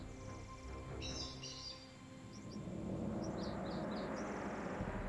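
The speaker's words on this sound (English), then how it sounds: "What the heck is that noise? It's a bird. It's a dang bird." Birds call in Jurassic Park: The Game, several short, faint chirps drifting over a low ambient rumble that grows slightly louder midway, with no talk.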